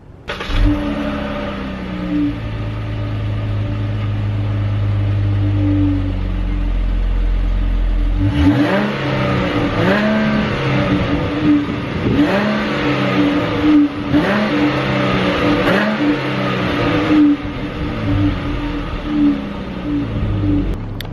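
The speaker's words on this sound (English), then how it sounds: "if any of you guys were wondering what the stock exhaust on a V6 Charger sounds like" A 2018 V6 Dodge Charger with stock exhaust idles low, then revs repeatedly in rising and falling bursts up to its 4,000 rpm limit, a steady throaty exhaust note close by with no talking.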